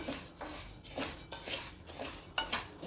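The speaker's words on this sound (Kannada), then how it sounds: "ಚೆನ್ನಾಗಿ ಹುರ್ಕೊಳ್ಬೇಕು ಕೆಂಪಾಗೋವರೆಗೂ ಹುರ್ಕೊಳ್ಬೇಕು" Sona Masuri rice being roasted dry in a pan until reddish, a spoon scraping and stirring against the metal in quick repeated strokes with a faint grainy rustle, close and alone.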